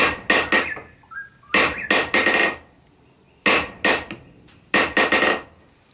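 A handmade hammer of roughly two to two and a half pounds strikes a hard surface in quick bursts of two or three ringing taps, each bouncing back with a bright metallic clink, close and loud.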